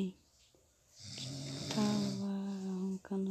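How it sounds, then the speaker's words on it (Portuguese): A woman snores somewhere in the room behind, starting quiet and swelling into long, steady, rasping snores. "tava roncando no fundo,"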